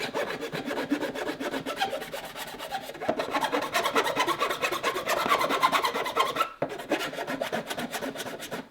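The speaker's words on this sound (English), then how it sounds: "You know, you can start filing some of the back." Steady rhythmic rasping of a hand file worked along the edge of a Ford Bronco body part around a window opening, close and continuous with repeated back-and-forth strokes, one short pause near the end, no talking.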